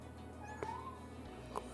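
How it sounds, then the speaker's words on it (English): A house cat gives two faint, brief meows about a second apart, quiet against a low steady background hum. "Got a kitty meowing."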